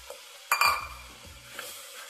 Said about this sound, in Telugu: ఆనియన్ మగ్గిన తర్వాత మనం ముందుగా తయారు చేసి పెట్టుకున్నటువంటి పేస్ట్ని ఇందులో వేసేసుకొని కొద్దిగా ఆయిల్ పైకి వచ్చేంత వరకు మనము దీన్ని ఆయిల్లో మగ్గనివ్వాలి.